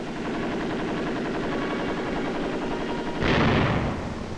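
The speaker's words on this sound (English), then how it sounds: "Comparison firing, 50 caliber machine gun. An aircraft machine gun." A 50 caliber aircraft machine gun fires a sustained rapid burst of shots, loud and close, swelling into a heavier blast near the end with no voices.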